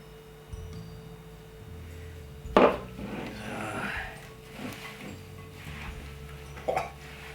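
Gloved hand mixing sliced apples with cinnamon for a whiskey-infused Irish apple tart in a bowl, a sharp knock followed by soft squelching rustles and a few small clinks, close.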